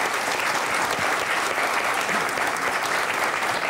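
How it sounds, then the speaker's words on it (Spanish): A crowd claps loudly and continuously at a Canarian parranda folk music gathering, a dense, even wash of close applause with no break. "Vamos a darte este aplauso para que no te vayas tú tampoco."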